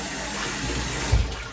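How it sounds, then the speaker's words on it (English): Fresh tap water runs steadily while rubber duck scrubbers are rinsed in a tub, a constant close splash and rush with a brief heavier splash near the end. "let's rinse these off with fresh water"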